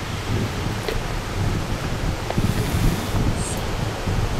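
Wind blows steadily outdoors at night in a village, a constant broadband rush buffeting the microphone with faint gusts and rustling, no voices present.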